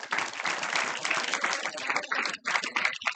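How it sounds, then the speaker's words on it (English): Students in a classroom gathering give a burst of applause for a classmate, dense and steady throughout, close and loud, with a brief dip near the end before the clapping resumes. "Please clap for him"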